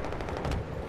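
Battlefield 4 gunfire crackles in a steady, rapid automatic rhythm, the shots sounding moderately distant and continuous with no voices over them.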